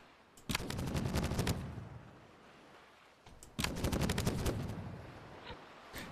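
Pirate ship cannons fire in the video game Caribbean! in two long volleys of rapid, crackling shots, separated by a short pause, with a few isolated booms trailing after.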